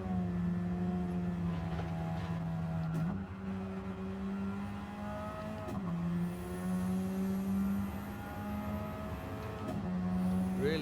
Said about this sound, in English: I feel we probably have to rev this car out more